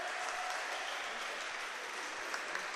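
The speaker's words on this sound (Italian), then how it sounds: "che ricevono l'applauso da parte dei pochissimi addetti ai lavori e sostenitori" A small group of staff and supporters applauds at a women's Serie A volleyball match, with thin, steady clapping that sounds sparse and slightly distant in a mostly empty hall.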